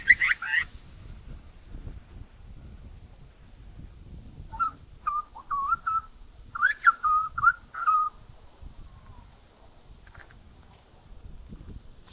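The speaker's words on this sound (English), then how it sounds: "There's a bird up there somewhere." A bird calls from the trees near a coastal lookout on the Mornington Peninsula, giving a few short whistled notes in two brief bursts. The calls are moderately distant over low rumbling wind and footstep noise.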